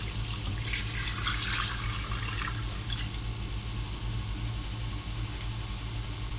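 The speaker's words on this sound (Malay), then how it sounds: "So kita gunakan bowl yang tadi juga untuk isi air. Jadi kita masukkan air." Water pours from a bowl into a pressure cooker pot for oxtail soup, a steady rushing splash for about three seconds that settles into a low continuous hum with no talking.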